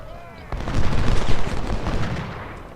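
Massed musket volleys crackle in the Ultimate General: Civil War strategy game, a sudden loud burst of many overlapping shots that rolls on for about two seconds with low booms.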